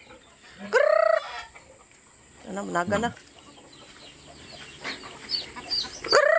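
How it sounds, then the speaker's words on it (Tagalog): Chickens cluck and squawk in short bursts, with a loud nearby call at the start and another near the end, while people talk in between. "Yun ang mga manok ko."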